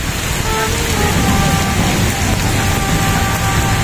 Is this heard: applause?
no